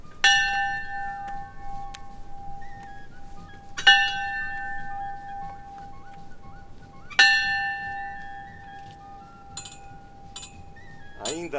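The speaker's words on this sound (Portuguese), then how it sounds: "sino original da época" An original church bell at a small 1930s village church, struck slowly with three or four loud, ringing strokes a few seconds apart, each note humming on and fading, and no talk over it.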